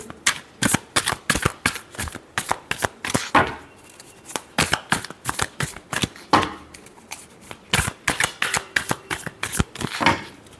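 Tarot cards are shuffled by hand in rapid, repeated riffling bursts, crisp and close, continuing steadily with short pauses between passes.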